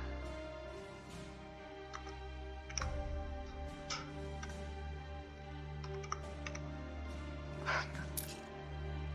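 Fast, irregular clicking of a computer keyboard during a Call of War strategy game session, faint taps scattered over a steady low background hum.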